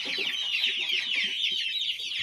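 A champion-breed rooster clucks in quick, rough bursts close to the listener.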